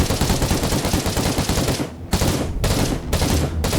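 Auto pistol on full auto in Warhammer 40,000: Inquisitor – Martyr, a loud continuous burst of rapid gunfire with brief pauses between sustained strings of shots, close and dense.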